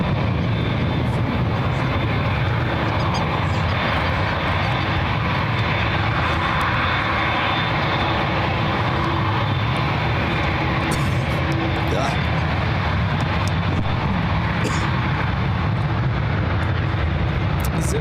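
Airplane at SFO airport taking off, a loud, steady, broadband engine roar that holds throughout with faint tones and distant radio-style voices underneath.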